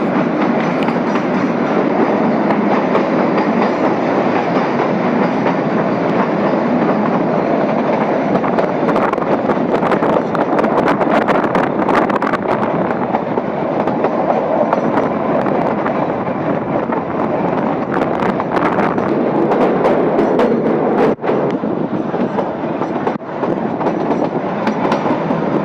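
Kalka-Shimla toy train running through tunnel number 22 on a mountain line, a loud continuous roar of wheels and carriages with clickety-clack and wind buffeting, steady throughout.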